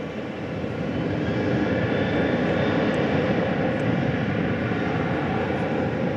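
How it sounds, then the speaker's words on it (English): An American Airlines Boeing 737-800 jet takes off from DFW Airport bound for Denver, a broad, steady engine roar swelling in the first second and then holding loud and unbroken. "American Flight 1523. It's off to Denver, Colorado."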